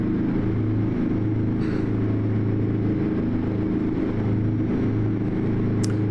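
A truck engine in the video game American Truck Simulator drones at low revs, about 1600 RPM, in a steady, continuous rumble that stays even throughout, with no voices.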